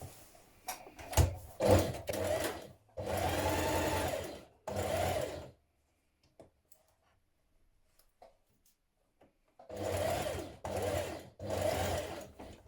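Sewing machine running bursts of stitches along a dart on dungarees, several close, steady runs separated by pauses and a long quiet gap before two more runs, with no one speaking.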